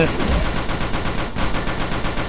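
Rapid automatic gunfire rattles continuously in a monster survival shooting game about defending a train, a dense, loud burst of shots held close for the whole moment.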